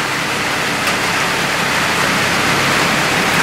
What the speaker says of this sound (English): I hear the rain hitting on the top of the tin, so it's definitely starting to rain a little bit harder